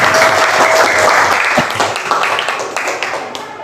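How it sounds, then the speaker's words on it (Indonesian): Children clap together in a classroom, a dense, loud burst of applause that thins slightly toward the end, with a few sharper individual claps standing out near the middle. "Ya, tepuk tangan"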